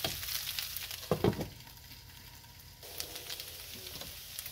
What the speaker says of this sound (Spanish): Estamos cocinando aquí las papas.